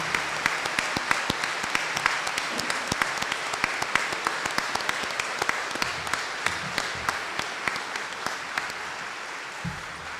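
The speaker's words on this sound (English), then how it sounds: "Please give a round, warm applause for the newest cadets of MMI's Corps" An audience at a military academy cresting ceremony applauds the new cadets, a long, even stretch of crowd clapping in a hall, with a few sharper individual claps standing out.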